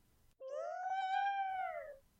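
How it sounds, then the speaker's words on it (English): A single drawn-out cat meow rises and then slowly falls, close and clear, standing alone in near silence. "a meow."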